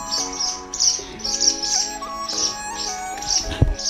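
A fallen swallow chick on a farm, taken from one of many nests, gives repeated thin, high chirps in short bursts, fairly close, with a low background hum and occasional handling noises.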